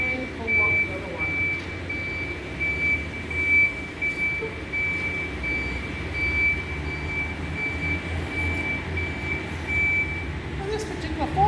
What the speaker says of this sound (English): On this particular forklift, if I drive with the handbrake on, it's going to make a beeping sound